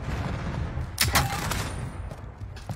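Airstrike explosions in Call of Duty Warzone on Fortune's Keep: a burst of sharp blasts and crackling gunfire-like bangs in quick succession over a busy game background, loud and close, with no voices.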